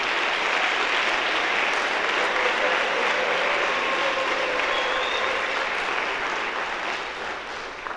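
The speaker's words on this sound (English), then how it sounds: "Please give these students a huge round of applause." Sustained audience applause fills a high school spring band concert hall, a dense, steady clapping from a large crowd that holds evenly for several seconds before easing slightly at the end.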